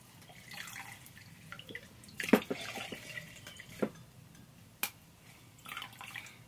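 Scattered drips and small splashes of water falling from a wrung washcloth into a cup, irregular and fairly quiet, with soft rustling between them.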